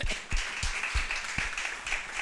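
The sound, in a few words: congregation clapping for the Lord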